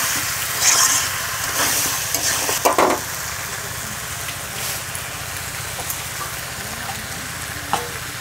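Masala for a prawn and pointed gourd curry sautéing in a pan, a continuous soft sizzle with occasional scrapes and stirring clatters.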